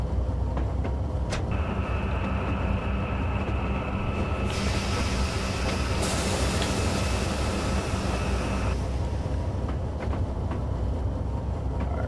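Amtrak P42 diesel locomotives in a double-header roll steadily in Train Simulator 2017, a continuous rumbling drone with rail hiss, brightening midway as extra high-pitched whine and tones join, then settling back, with no talk.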